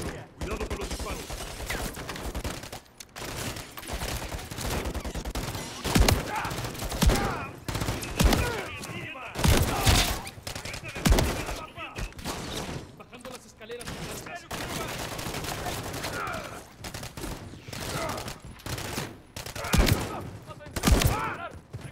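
Bursts of rapid gunfire crack repeatedly in uneven volleys in the video game Call of Duty: Modern Warfare 3, with Spanish-speaking voices talking in between over a noisy battle.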